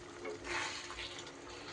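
Water poured into a bowl of spices during paneer curry cooking, a steady splashing pour with a brief louder surge near the start, close and fairly quiet, with no talking.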